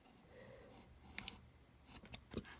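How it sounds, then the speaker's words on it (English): A blade snips through waterslide decal paper in a few short, crisp cuts, close and fairly quiet against a soft background hiss. "you're going to want to cut straight through it"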